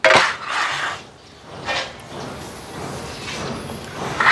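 Rustic 12x24 stone body wall tiles being handled in a tile shop, giving hard clattering knocks and scrapes in several separate bursts, close and moderately loud, with no talking.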